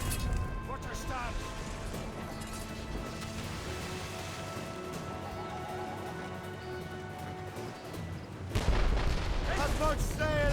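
Ship cannons fire in a naval battle in Assassin's Creed Rogue. Heavy booms and crashes roll under a dense wash of wind and sea noise, swelling into a louder volley near the end while crew voices shout.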